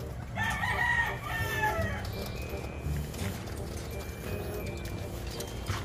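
Roosters crow and hens cluck in a mixed poultry pen on a gamefowl farm. A loud crow rises early over steady background clucking and farm noise, and faint voices are heard.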